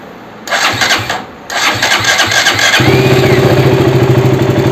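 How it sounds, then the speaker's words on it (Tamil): A KTM Duke 200 motorcycle, being checked for a battery charging fault, is cranked briefly by its starter, which pauses and cranks again before the engine catches. It then settles into a loud, steady, close idle, with no voices. "வண்டி ஸ்டார்ட்"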